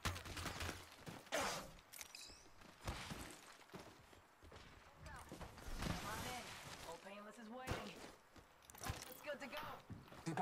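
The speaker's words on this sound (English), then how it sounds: "Shots fired at me." Gunfire in Apex Legends comes as sharp scattered bursts and single cracks, some close and some distant, under frequent talk.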